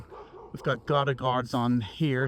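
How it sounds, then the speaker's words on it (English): A dog barks repeatedly in short yelps at a house with gutter guards, mixed under someone talking close by. "Sorry for the dog barking. He's gonna keep on going."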